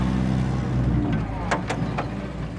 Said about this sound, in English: It was, of course, the Land Rover.